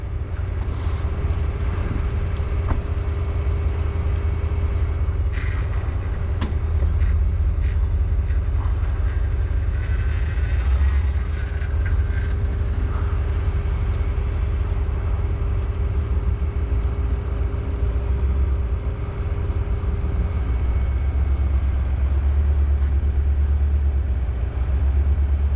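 A vehicle engine runs during an off-road side-puller recovery, a steady loud low rumble that holds throughout with wind buffeting on the microphone and no talking.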